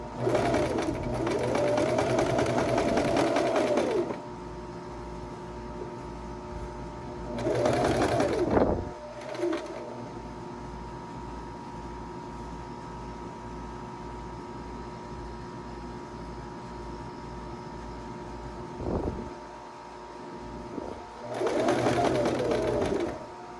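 A sewing machine edge stitches a dress in three loud bursts of steady rapid running, separated by long pauses filled only with low room hum and a faint click or two.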